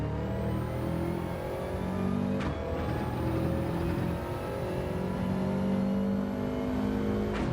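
Subaru race car engine in Gran Turismo 7, a steady droning roar with rising and falling pitch through gear changes, heard alone at a constant moderate level.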